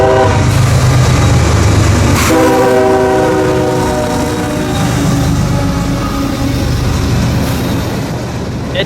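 A CSX freight train on the Indiana Subdivision mainline passes close and loud, its horn sounding in long sustained blasts over steady rumbling wheel and rail noise.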